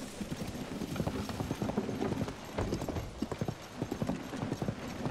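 A horse gallops in the video game Zelda: Tears of the Kingdom, producing steady rapid hoofbeats close by, with a faint whinny mixed in.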